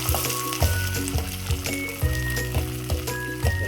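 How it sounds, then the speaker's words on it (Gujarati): Green peas dropped into hot oil for a pea and potato curry, a loud close sizzle with rhythmic scraping bursts of stirring every half second or so. "આપણે તેલ ગરમ થઈ ગયું છે તો આપણે હવે એમાં એડ કરીશું વટાણા"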